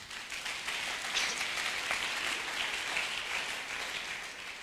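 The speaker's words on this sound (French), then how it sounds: "Acclamons une fois pour le Seigneur." A church congregation applauding at a French-language worship service, a dense, even wash of clapping from many hands that holds steady throughout, moderately distant.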